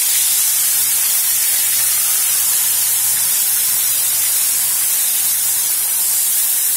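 Masala paste fries in a pan over mustard seeds and asafoetida for masala tinda, a loud, steady, close hiss of sizzling that runs unbroken throughout.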